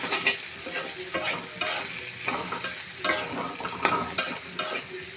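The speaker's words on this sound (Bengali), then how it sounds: "আবারও নেড়ে দিচ্ছি ভালোভাবে, যাতে নিচে লেগে না যায়।" Sliced bitter gourd fries in a pan and is stirred with a utensil. Repeated rhythmic scraping strokes sound against a continuous soft sizzle, close and moderately quiet.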